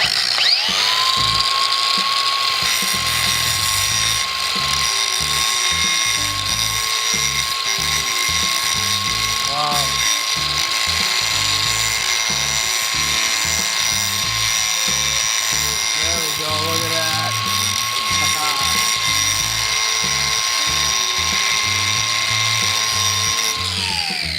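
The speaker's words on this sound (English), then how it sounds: "now on to the final test, where I bring out my angle grinder" An angle grinder cuts through a supposedly indestructible shoe, its loud steady high-pitched whine running continuously for the full length with a gritty mechanical grind underneath and a brief dip near the start.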